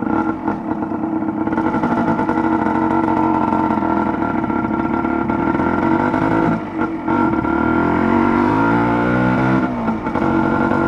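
A Yamaha DT125 two-stroke motorcycle runs loud and steady on a long road ride, its buzzing engine note holding, dipping briefly and then climbing again as it revs up through the gears.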